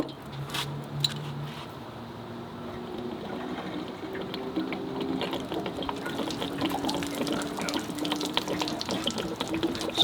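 Water drains from an RV travel trailer's 10-gallon hot water heater with the anode out, a steady close splashing gush with gurgling, running continuously.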